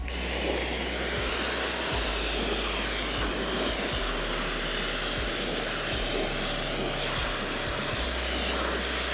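A rubber all-weather floor mat being rinsed with a pressurized water spray, a loud, steady, broad hiss that runs unbroken throughout, close up with no talk.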